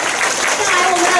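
Applause from a school audience at an anti-drug outreach event held by county police, a broad steady patter of clapping filling the room while a voice speaks over it.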